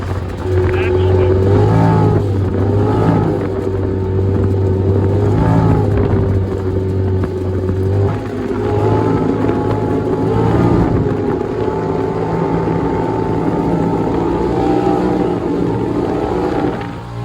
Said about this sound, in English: The RPM side-by-side blow-off valve. Cruising about 25 miles an hour. That's it open. That's it closed.